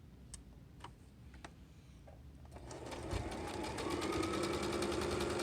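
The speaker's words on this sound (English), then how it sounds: "But now I can do the buttonhole on my project." A sewing machine stitches a buttonhole through a thick glasses-case project, starting quiet with a few light ticks before settling into a loud, steady, rapid needle rhythm that holds to the end.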